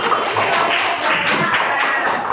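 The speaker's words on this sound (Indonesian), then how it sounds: "Beri tepuk tangan untuk kelompok terakhir." Classroom audience clapping for the last student group, a dense, close burst of hand claps with an uneven, patting rhythm throughout.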